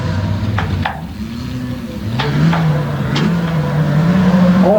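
Side-by-side off-road modified trucks race at a Tuff Trucks event in Windsor, Pennsylvania, their engines droning and revving steadily as the pitch climbs, with a few sharp clatters breaking through.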